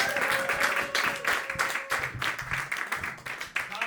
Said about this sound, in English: start clapping right now for Tommy Lynch